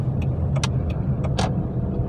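A car being driven barefoot, its engine and road noise a steady close hum from inside the cabin, with a few faint clicks and ticks over the drone.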